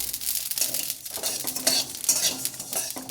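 Food bubbles and sizzles in a hot pan on the stove while a utensil scrapes and stirs it, close and continuous, with occasional clinks against the metal.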